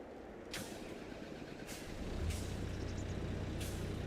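Farming Simulator 22 tractor releasing its air brakes: sharp hissing bursts repeat about every second and a half over a steady engine rumble that grows louder partway through, with no voices.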